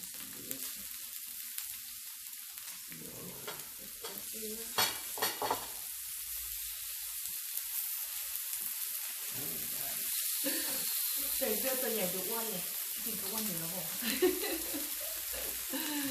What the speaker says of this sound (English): Cooking some beef.